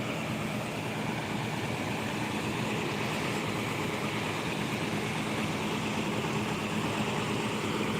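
A steady, fairly quiet diesel rumble from an ALS coach idling at the BRPS bus terminal in Pekanbaru, a continuous broadband drone with no talk over it.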